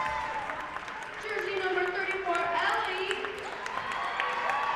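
Crowd noise fills the gym at a high school basketball game between Evanston and the Cheyenne East Red Devils: a continuous roar of voices and cheering, with scattered shouts and whistle-like calls rising above the din.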